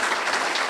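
Short burst of steady applause from members at a Kiwanis club meeting, a dense wash of hand claps filling the room with no speech over it.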